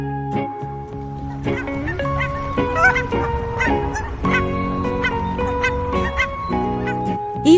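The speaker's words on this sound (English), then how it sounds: "D for Duck." Ducks quack repeatedly in a nursery-rhyme alphabet song, the honking calls sounding alongside bright, tonal musical accompaniment and fairly loud throughout.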